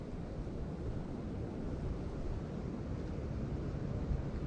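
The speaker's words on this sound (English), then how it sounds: "The wind is so bad." Strong wind gusting outdoors beside water, a continuous low rumbling roar buffeting the microphone steadily for the whole stretch, with no voices.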